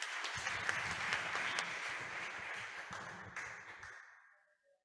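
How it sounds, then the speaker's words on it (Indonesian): Church congregation at a prayer and fasting session applauding, dense steady clapping for about four seconds before fading away. "berikan tepuk tangan."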